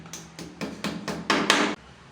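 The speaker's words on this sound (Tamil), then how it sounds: "இதை இப்படி வச்சு சுத்தியல் வச்சு அதை அடித்து உள்ளே மட்டமாக இறுக்கி விட்ருக்கேன்" A hammer taps a plastic wall plug into a wall while a water heater is being mounted: six sharp, evenly spaced knocks, close and growing louder with each strike, then silence.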